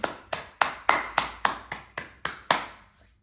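Hands clapping during a yoga grounding exercise, nine or ten crisp, close claps in a steady even rhythm, alone and fading after the last one.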